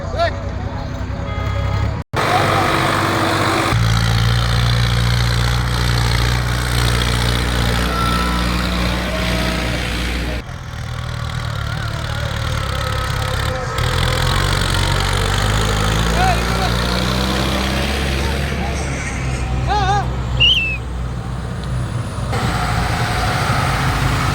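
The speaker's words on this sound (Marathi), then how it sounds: "गाडी ऐकताय." A vehicle engine running during a foot pilgrimage procession from Umarkhed and Nanded to Mahur, a steady low drone throughout that is loud and close, with a few abrupt cuts and people talking over it.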